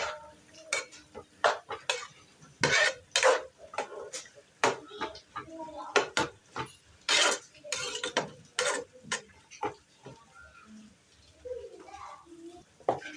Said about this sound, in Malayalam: നല്ലോണം ഒന്നും കൂടി ഇളക്കുക.